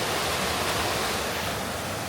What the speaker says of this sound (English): Some rushing water.